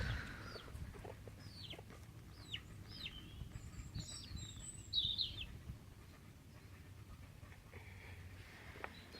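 A chicken blocking a path gives soft, fairly faint clucks and short calls, with a few brief chirps over quiet outdoor background.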